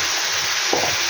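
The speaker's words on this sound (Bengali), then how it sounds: "আলুটা ভাজছি।" Potatoes fry in a pan with a steady, dense sizzle throughout, close and fairly loud, with a brief stirring scrape near the middle.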